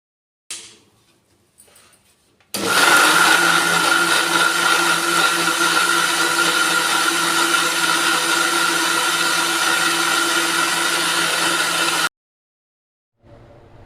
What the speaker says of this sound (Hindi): तो 2 कटोरियों का मैंने पूरा मिक्सी में चला दिया